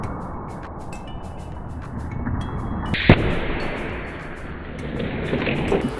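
A popcorn-puffing cannon gives a sharp, loud blast about halfway through, set against a steady roaring background and scattered clicks before and after.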